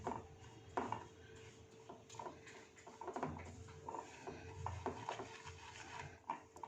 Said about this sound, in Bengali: এইভাবে সুজিটাকে অনবরত নাড়তে হবে, না হলে তলায় লেগে যাবে